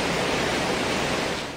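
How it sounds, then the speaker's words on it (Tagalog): Floodwater rushes across the Narciso Ramos Highway in Lanao del Sur in a loud, steady, broadband roar with no voices over it. "Ganito kalakas ang ragasan ng tubig kagabi sa Narciso Ramos Highway sa Lanao del Sur."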